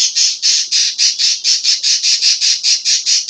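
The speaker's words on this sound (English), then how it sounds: "Even my birds get upset at that." Pet birds squawking in a rapid run of about fifteen harsh, loud, shrill calls, close by and evenly paced, with no voices.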